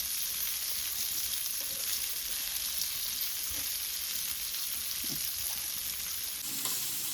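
Fish coated in rice flour frying in hot oil, a dense, steady sizzle close by and uninterrupted, with a few faint clinks of utensils and no talking.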